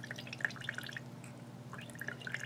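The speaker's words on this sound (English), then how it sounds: "I'm going to squeeze it gently. And what I want to do is see that water just run out clear." Water drips from a squeezed fountain pen converter during pen cleaning, making faint, quick, irregular droplet ticks over a low steady hum.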